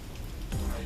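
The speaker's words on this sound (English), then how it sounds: "the rain rolls in." Steady rain patters on a cruise ship near Dubrovnik, a soft continuous hiss with low rumble underneath, brief and fairly close.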